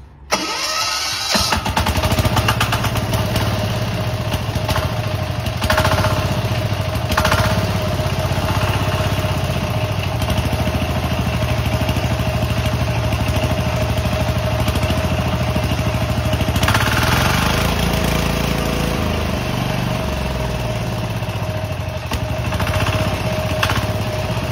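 A gasoline engine driving an 8-inch water pump on a 10-metre shaft starts up and then runs steadily and loudly, a continuous droning hum with a constant tone that holds for the full duration.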